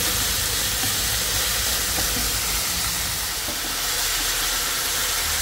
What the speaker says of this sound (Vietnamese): xào bò mình để lửa lớn nha các bạn